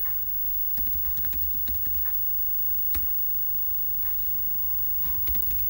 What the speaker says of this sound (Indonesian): Kita ketikkan enable dan kita masukkan password yang sudah dienkripsi